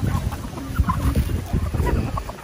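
Basilan Shamo chickens clucking on a farm in Glan, close and fairly loud, several birds overlapping in scattered short calls over steady background noise.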